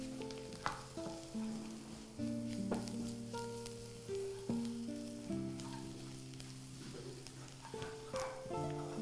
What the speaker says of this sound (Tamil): டைரெக்டாக அப்படியே நான் வந்து இஞ்சி பூண்டு ப்ளஸ் வெங்காயம், சோம்பு எல்லாத்தையும் ஒன்றா வதக்கிறேன்